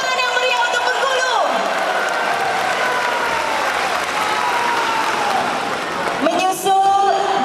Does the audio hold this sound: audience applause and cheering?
yes